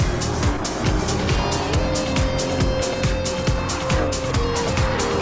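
Race cars including a Lexus LC 500 and a Genesis charge through the S's in a sim racing game, a dense, loud engine roar with rapid rhythmic pulses of shifting and revving, with faint talk beneath.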